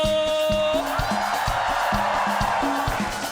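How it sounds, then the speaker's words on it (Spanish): Church congregation at a celebration service raising a loud, dense roar of joyful shouting and whoops, sustained throughout with rhythmic percussive music pulsing underneath. "Yo quiero escuchar ese grito de júbilo."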